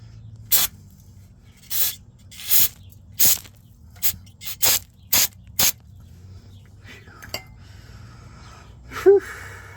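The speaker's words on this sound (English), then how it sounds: "Brake cleaner action here." Brake cleaner sprayed on a 1968 Oldsmobile Delmont 88 in a series of sharp hissing bursts, about nine short blasts at uneven intervals, close and loud over a quiet background.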